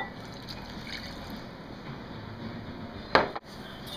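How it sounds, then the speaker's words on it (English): Hot water streams steadily from a kettle into a bowl of peach jello powder, a soft continuous pouring hiss that ends with a brief clatter near the finish. "Then you add the hot water."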